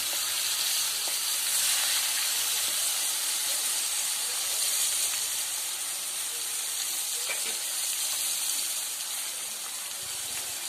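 Shoal fish fries in a pan with a steady, close hiss and sizzle and faint crackles, continuous throughout.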